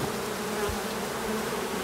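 Honey bees drone in a steady, dense buzz close around an open hive, with no talk over them.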